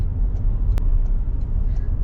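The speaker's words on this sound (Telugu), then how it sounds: "సో ఇలా ట్రాఫిక్ అయితే ఫుల్ జామ్." Road traffic stuck in a jam near a construction site: a steady, close, low rumble of idling engines fills the scene, with a brief sharp burst partway through and no clear speech.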